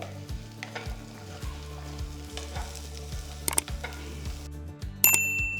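Walnuts and small capsicum wedges toasting in a pan: soft sizzle under repeated rhythmic stirring scrapes and light clinks of a utensil against the pan, close by, ending in a brighter metallic ring, with no voices.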